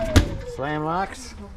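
A slam-lock storage compartment door on a 2025 Intech Black Wing 830 X RV shuts with a single sharp, close thud, followed by a person speaking.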